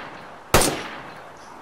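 A single sharp gunshot cracks loudly in the DayZ video game, a sudden broadband burst that decays quickly into a faint tail, with no voices over it.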